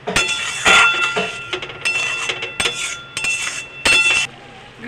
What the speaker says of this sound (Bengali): সব একসাথে করে মিশিয়ে নেব।